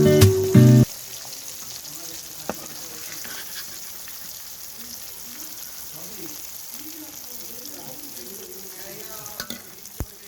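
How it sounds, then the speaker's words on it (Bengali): Small hilsa (khoka ilish) fry in hot oil in a village kitchen, a soft, continuous sizzle after a brief loud burst at the start, with faint voices in the background. "আমার ভাজা হয়ে গেছে, উঠিয়ে নিচ্ছি, দিয়ে বাকি মাছগুলো ভেজে নেব।"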